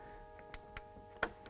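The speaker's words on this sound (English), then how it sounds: "So we will mate that with this green. Click it in." A headlight wiring connector on a 2016-2020 Toyota Tacoma snaps into place, with a few small, close plastic clicks spaced apart in a quiet room.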